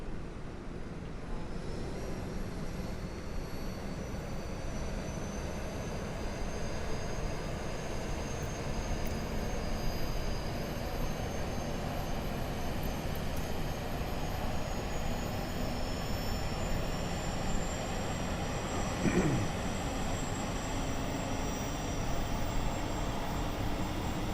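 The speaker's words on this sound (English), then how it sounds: "APU is spooling." Auxiliary power unit of an Airbus A32NX spooling up in a flight simulator game, a steady broad roar with a faint rising whine, continuous and even throughout with no talking.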